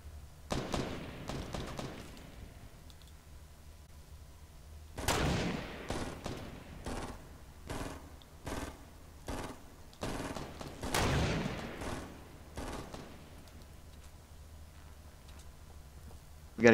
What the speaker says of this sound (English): Shooting at the other guy.